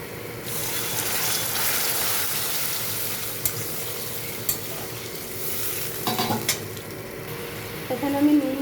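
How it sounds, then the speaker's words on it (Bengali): Water is poured into spice paste frying in a pan for rohu fish rezala, giving a steady loud hiss and sizzle throughout, with a few scraping stirs and clinks near the end. "এখন আমি জলটা দিয়ে দিচ্ছি এখানে।"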